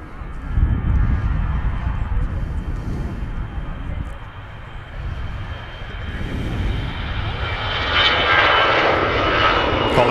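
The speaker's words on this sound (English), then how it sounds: "the Istanbul service, Turkish A321neo, currently on the ILS about 1500 feet" Turkish Airlines Airbus A321neo on ILS approach at about 1500 feet, Manchester Airport: a loud, continuous jet engine roar with broadband rumble, holding steady and swelling slightly toward the end.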